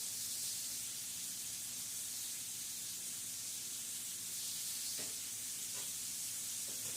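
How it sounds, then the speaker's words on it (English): Bacon sizzling in a skillet, a dense steady hiss and crackle that stays loud and unbroken throughout, with a few faint knocks near the end. "I'm adding the rest of the bacon. To the pan, the skillet,"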